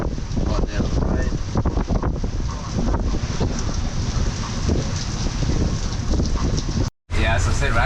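Strong wind buffets a moored Haines Hunter boat as a storm approaches, producing loud, gusty roaring and microphone wind noise throughout, with a brief dropout near the end.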